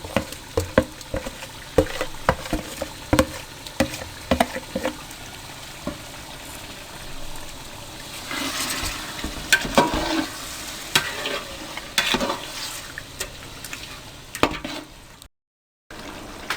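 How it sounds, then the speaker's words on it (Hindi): Chicken pieces and spices being sautéed for tikka pulao in a pot, with frequent spatula scrapes and knocks over a continuous sizzle that swells midway, close and loud, no talking. "अब आपने अच्छी तरह से चिकन और मसाले को भून लेना है।"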